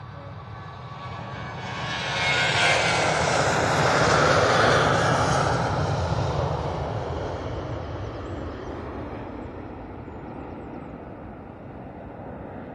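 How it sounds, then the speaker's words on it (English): TUI airliner jet engines roaring on the takeoff roll at Manchester Airport, a broad distant roar that swells to a peak and then slowly fades away, with no talking. "So, we've got this TUI on the roll."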